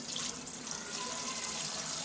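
Water that was boiled and then cooled is poured into an air cooler at home. It makes a steady, splashing rush of liquid, close and continuous, with no voices.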